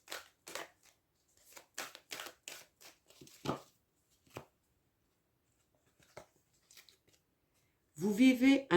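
Oracle cards being drawn and handled: a run of short papery flicks and snaps, with quieter handling and brief rustles that stop and start, then a burst of dense card noise at the end.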